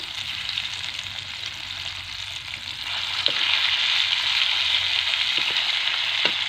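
Garlic and ginger fry in a pan, giving a steady bright sizzle that grows a little louder partway through, with a few small clinks of stirring and no talk.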